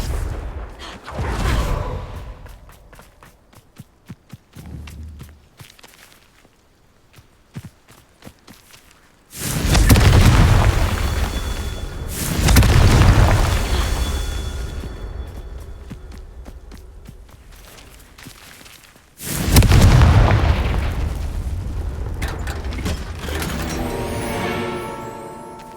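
Confringo fire spells bursting in Hogwarts Legacy, with several heavy, booming explosions rising out of quieter in-game footsteps and scattered thuds, each blast rumbling and fading slowly.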